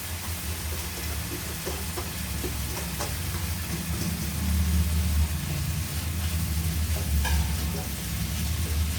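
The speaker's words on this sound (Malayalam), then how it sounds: "ക്യാബേജ് ഇടുവാണ്." Chopped cabbage sizzles and crackles steadily in a hot pan while being stir-fried for vegetable Maggi noodles, a close, continuous frying hiss with occasional stirring scrapes.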